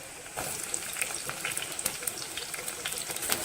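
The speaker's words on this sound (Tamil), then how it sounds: "இந்த சின்ன வெங்காயமும் நல்லா வதங்கட்டும்" Small onions and garlic sautéing in hot oil with fenugreek in a pan for a sardine fish curry, giving a steady, close, hissing sizzle with faint spattering crackles throughout.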